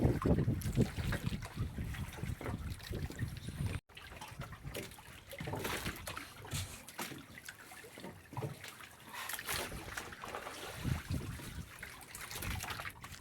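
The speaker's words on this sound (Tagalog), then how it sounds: "Lalong lumakas mga idol yung hangin amihan." Strong northeast monsoon wind at sea, blowing hard and steady from near, a rough whooshing roar mixed with splashing water around a small boat, gusting louder at times with one brief dropout.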